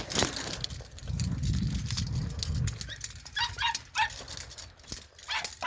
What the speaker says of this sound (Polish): Tam jest mój piesiu.